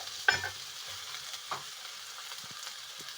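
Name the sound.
stirring coconut, garlic and chili mix in pan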